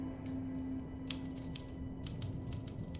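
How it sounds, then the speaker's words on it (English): Typewriter keys clack in the video game Alan Wake II: faint, scattered sharp clicks in irregular bursts over a low, quiet background hum. "I love the sound of typewriters."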